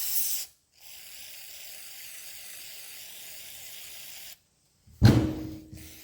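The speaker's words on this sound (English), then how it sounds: "Let's start out here with just a bit of this electrical contact cleaner." Electrical contact cleaner sprayed from a can onto a rusty starter from a 1950s Oliver 88 tractor: a brief hiss, a pause, then a steady close spray of about three and a half seconds, followed by a sharp clatter.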